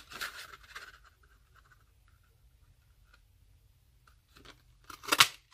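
Scissors cut a paper label in brief bursts of close, crisp snipping and rustling at the start and again near the end, with a quiet pause between them.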